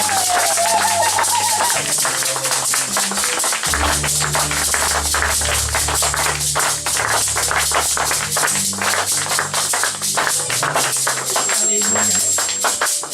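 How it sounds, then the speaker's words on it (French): A church congregation claps and cheers loudly in dense, steady applause, with music and voices running underneath throughout. "Si Jésus est bon pour toi, tu peux encore acclamer très fort."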